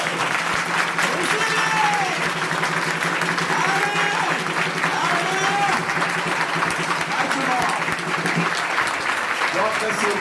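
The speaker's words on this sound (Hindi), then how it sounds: "जोर से ताली मार के उसको महिमा करेंगे" Loud, steady clapping from a church congregation fills the whole stretch, with a pastor's voice and shouts carrying over the applause and bright tonal calls rising here and there.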